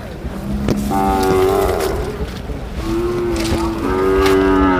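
Bulls moo repeatedly at the Mudalagi cattle market, long low drawn-out calls overlapping one another, loud and close with steady background noise throughout.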